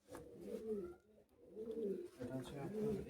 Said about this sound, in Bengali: এগুলো ফ্লাইং এর কবুতর